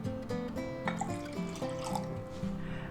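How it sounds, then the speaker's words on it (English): Half a cup of water poured into a pan for pepper steak sauce after soy sauce, a faint, brief trickle and splash with scattered drips and light clinks, no speech. "put in a half a cup of water."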